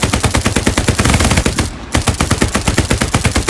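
Gunfire in the World War II shooter Hell Let Loose: loud, rapid automatic bursts rattle almost nonstop and break off for a moment before the firing resumes, with no voices.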